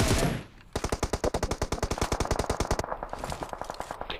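Rapid automatic gunfire in the battle royale game BGMI, a loud close burst of evenly spaced shots lasting a few seconds, followed by fainter repeated shots with echo.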